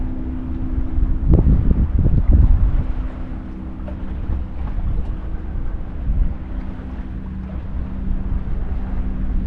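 A reefed sailboat under way in protected waters, with steady wind and water rush throughout, a louder gusty burst of wind buffeting near the microphone early on, then a continuous low hull and wave wash.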